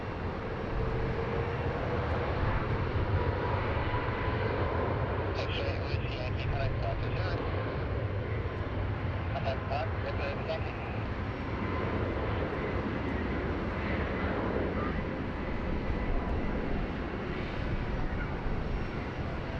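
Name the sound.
Fiji Airways airliner departing Sydney Airport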